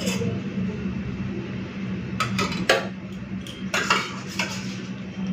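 A spoon clinks and clatters against a plate in several short bursts while dal is served onto rice in a home kitchen, with a steady low hum underneath.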